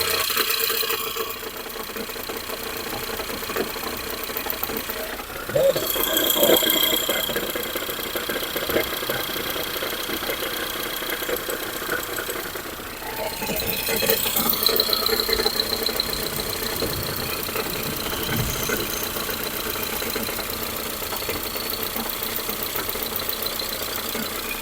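A Ford Fusion engine idling with a knocking fault, heard up close as a steady mechanical hum with a faint repetitive tapping and a brief squeal, and no talking.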